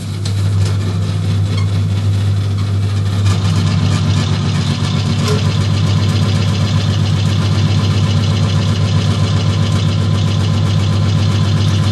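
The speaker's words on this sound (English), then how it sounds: "turn on the wheel again, put it to high speed now" An electric pottery wheel spinning at high speed for throwing clay makes a loud, steady motor hum with a deep drone that stays unbroken throughout, with no voices.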